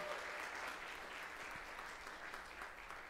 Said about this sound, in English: Everybody give Sarah a round of applause.